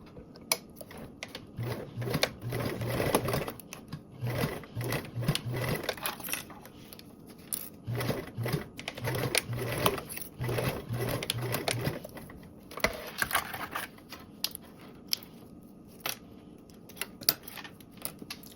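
A sewing machine stitches the side seams of a fabric travel bag, running in steady bursts of rapid mechanical chatter with short stops between them, close and continuous.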